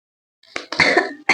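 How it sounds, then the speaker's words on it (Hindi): A person coughing close up, a few sharp, loud bursts in quick succession after a moment of silence. "खांसी आ गई।"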